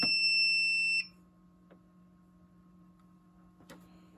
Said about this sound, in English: as predicted, the low temperature alarm went off